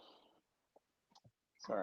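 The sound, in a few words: typing on a keyboard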